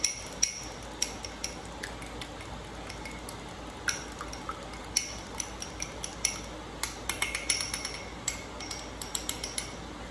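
An egg is beaten with a utensil in a small bowl while sesame seed shrimp is prepared, giving a steady run of quick, light clinks and taps against the bowl, close and fairly quiet, with no talking.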